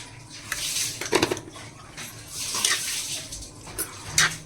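A spoon stirs kokum masala curry with prawns in a pot, giving soft wet scraping and a few clinks of metal against metal in uneven strokes, close and fairly quiet.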